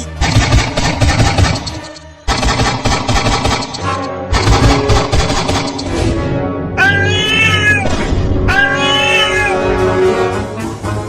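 A cartoon cat meows and yowls in long, loud, drawn-out cries, with pitch sliding up and down in the later calls, over a busy animated comedy soundtrack.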